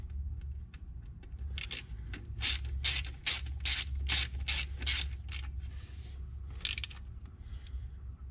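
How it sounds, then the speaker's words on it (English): Standard hand ratchet retightening bolts on a Ford EcoBoost 2.0 engine, giving a close, crisp run of about ten evenly spaced clicking strokes followed by a couple of later clicks, with no talk. "I like to re-tighten everything with a standard ratchet so I can feel if anything's cross-threading"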